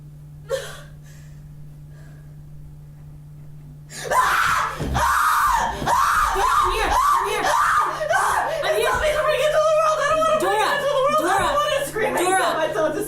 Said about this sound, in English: If you don't bring me into this world, I'll scream.